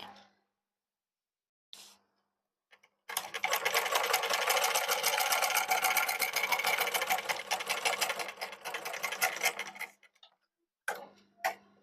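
A sewing machine stitches a bead stitch, running in a steady, rapid ticking whir for about seven seconds, with brief short bursts of stitching just before and after.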